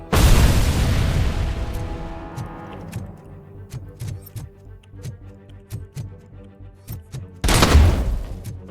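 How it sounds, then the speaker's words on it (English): A loud, close grenade blast in RoboCop: Rogue City booms and rolls off into a long decay. Scattered sharp pops and debris clatter follow, then a second heavy explosion erupts near the end. "Another grenade."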